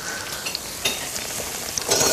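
A dish simmers and sizzles in a pot during outdoor cooking, giving a steady crackling fry with occasional stirring clinks and small pops, fairly close and with no voices.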